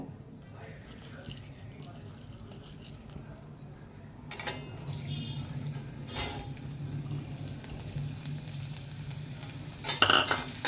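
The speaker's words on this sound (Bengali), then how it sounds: "ওতে আমি এই মসুর ডালটা ভেজে নেব।" Masoor dal is fried in hot mustard oil in a wok, a quiet sizzle under soft stirring scrapes that builds after a few seconds and ends with a sharp clink of metal.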